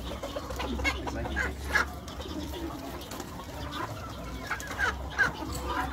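Chickens cluck repeatedly at a poultry market, with irregular close bursts of clucks over a low, constant background hum.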